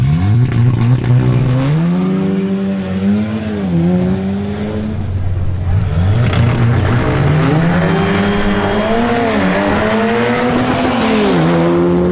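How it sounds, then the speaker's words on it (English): Two cars, a BMW M240i xDrive and an Audi S3, launch in a drag race, engines revving hard and rising through gear changes with tire noise, loud and continuous throughout with no talk. "Next we have Sebastian Sepulveda in his BMW M240i xDrive versus Arturo Polo in his Audi S3."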